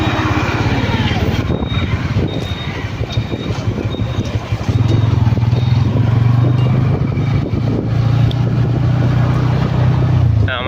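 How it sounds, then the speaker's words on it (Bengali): A Bajaj Pulsar N160 motorcycle engine drones steadily while riding, with rushing road and wind noise and a deeper, steadier hum taking over midway as a voice talks over it. "এটা হচ্ছে আমাদের পালসার এন ওয়ান সিক্সটি হয়ে গেল বাইকটা"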